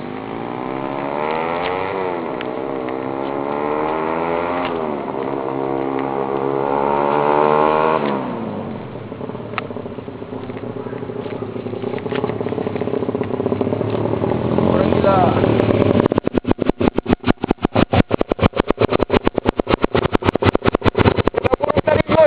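A Honda CBR 150 motorcycle in full racing trim revs loudly and close, its engine pitch sweeping up and down in repeated rises before settling into a rapid, hard staccato pulsing.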